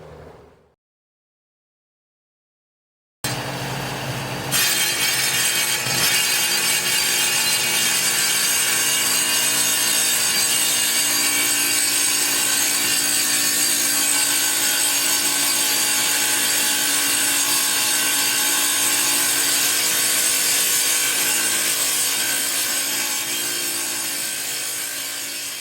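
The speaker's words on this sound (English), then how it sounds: "Set a lazy tile on either side and miter cut the front bullnose of each to 45 degrees so everything lines up in the front." A wet tile saw miter cuts the front bullnose of granite countertop tiles to 45 degrees, starting abruptly after a few seconds of silence and grinding on loud and steady with a high whine for the rest of the clip.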